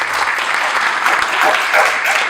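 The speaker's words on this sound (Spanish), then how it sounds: "¿Le damos un fuerte aplauso a Dios por eso?" A church congregation at a Spanish-language service breaks into loud, dense applause, a steady wash of clapping filling the room for a couple of seconds with no voice over it.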